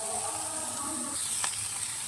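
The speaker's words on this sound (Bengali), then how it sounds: "ক্যাপসিকামটা ফ্রাই করে নিচ্ছি" Capsicum frying in butter in a pan for a paneer vegetable curry, giving a steady close sizzle with a brief sharper crackle near the end.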